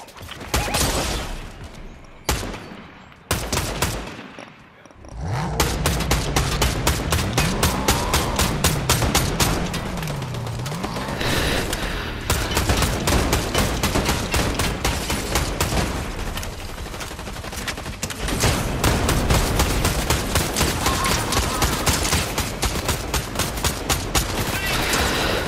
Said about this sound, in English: I got the boss shooting at me.